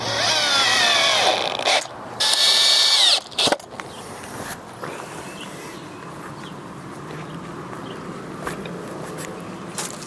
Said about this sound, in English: We are driving a 2-inch exterior wood screw.